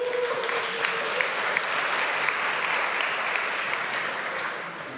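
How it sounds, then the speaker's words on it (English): Steady audience applause fills a tech conference hall, a dense even wash of clapping that holds for several seconds before tapering slightly at the end, with no voices over it. "I'm so glad that's the one that got the applause"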